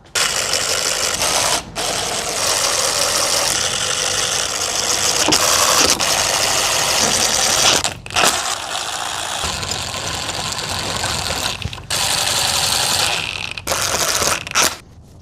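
A Honda CRF110 dirt bike engine runs after a top end rebuild, a loud, close, continuous rattling drone that briefly cuts out several times.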